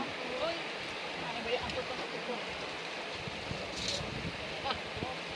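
River water flows steadily in an outdoor summer setting where people soak, a continuous rushing wash with faint background voices under it.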